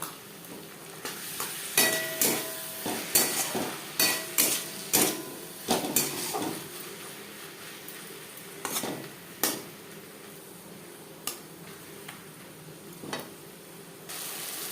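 Spices with ginger paste and green chilli paste being stirred and fried in a pan for puti fish curry: a run of quick, rhythmic scraping strokes over a steady sizzle, close and clear, thinning to occasional stirs, with no talking.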